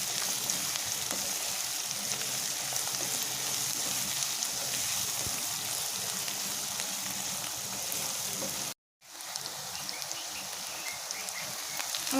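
Onion and garlic fry for a dried fish curry, loilta shutki bhuna, with a steady dense sizzle that continues, loud and close, apart from one brief break.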